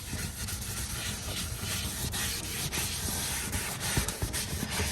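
McKee's 37 Total Interior Cleaner is rubbed into a car's interior surfaces, a close, continuous scrubbing and rubbing hiss with soft irregular strokes and no voices.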